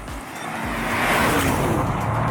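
A Mercedes-AMG GT 63 Pro accelerates hard, its engine note building from a low rumble into a loud, rising roar that swells and holds near the listener.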